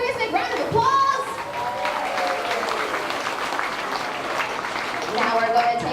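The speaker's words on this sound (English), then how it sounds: "Let's give our crew a big round of applause." Audience applause at a theme park backlot tour preshow after a stunt demonstration, a broad crowd clapping mixed with cheering voices and some background chatter, fairly steady at moderate loudness.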